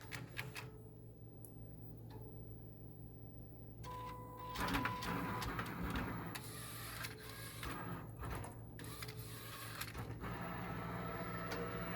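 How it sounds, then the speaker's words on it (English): An Omni Print 330 TX Plus printer running a nozzle check: steady mechanical whirring and ticking of the print head moving back and forth, with bursts of rattling activity, continuous and fairly close, no talk. "I'll hit print and it'll print a nozzle check."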